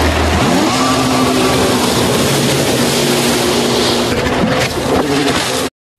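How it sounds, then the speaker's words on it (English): A water scooter's engine revs close and loud with a buzzing, rising whine that shifts pitch as it speeds along, then stops abruptly. "Water scooter."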